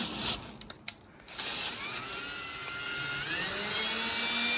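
A hand tap threads holes in a metal hood hinge for a tube-frame car: a few sharp ratcheting clicks, then a steady, thin metallic whirring as the tap turns, close and fairly quiet.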